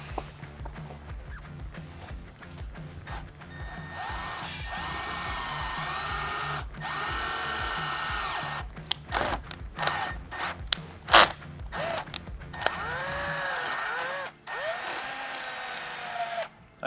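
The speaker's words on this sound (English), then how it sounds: "When you're starting out drilling this, don't full send into it." Power drill boring a small hole into the slippery surface of a 14th-generation Ford F-150 truck during a Pro Rack install, a steady loud whirring whine with brief pauses and restarts, fairly close, no talk.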